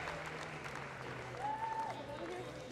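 Crowd applauding a climber at a bouldering national championship final, a short burst of clapping heard at a moderate distance under a commentator's voice.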